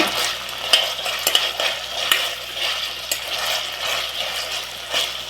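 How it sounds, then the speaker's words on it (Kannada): Ginger garlic paste frying in a pan, with a continuous bright sizzle and a steady rhythm of spatula scrapes and taps as it is stirred. "ಇದನ್ನ ಈ ರೀತಿ ಕ್ಲೀನಾಗಿ ಫ್ರೈ ಮಾಡ್ತಾ ಇರಿ. ಅದರ ಹಸಿ ವಾಸನೆ ಎಲ್ಲ ಹೋಗ್ಬೇಕು ಶುಂಠಿ ಬೆಳ್ಳುಳ್ಳಿ ಪೇಸ್ಟ್ದು"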